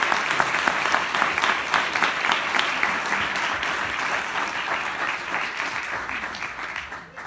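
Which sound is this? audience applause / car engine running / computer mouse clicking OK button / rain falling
audience applause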